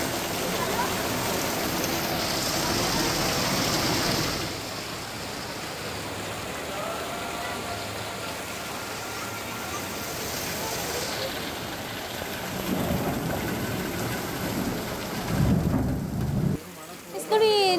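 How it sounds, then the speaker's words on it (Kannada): Heavy night rain pours on the flooded town of Jamkhandi in Bagalkot, a dense continuous roar with rushing water and low thunder rumbles, while voices sound briefly near the end. "ಎಲ್ಲಿ ನೋಡಿದ್ರು ಕೂಡ ನೀರು ಹರಿದುಕೊಂಡು ಹೋಗ್ತಾ ಇದೆ ಆ ರೇಂಜ್ನಲ್ಲಿ ಮಳೆ ಆಗ್ತಿರೋದು"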